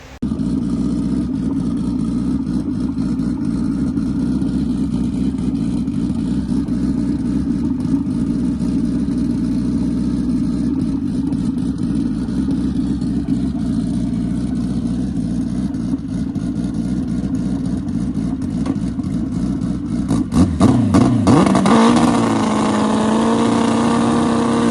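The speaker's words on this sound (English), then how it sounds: "I'm going to go do a burnout in the driveway now." A car swapped with a Hayabusa motorcycle engine does a burnout in a driveway, holding a loud, steady high-revving drone for about twenty seconds before the pitch swoops and settles at the end.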